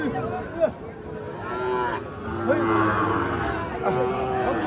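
A native one-year-old calf at a cattle market lets out drawn-out moos, several in succession, close and fairly loud over crowd murmur with some background voices.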